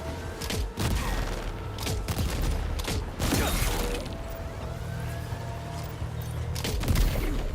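Video game gunfire aimed at a ship's top deck, with bursts of shots and crashing impacts over a steady background rumble, loud and close and continuous through the stretch.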